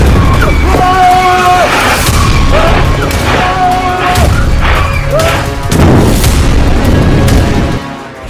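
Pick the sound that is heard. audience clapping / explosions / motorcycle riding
explosions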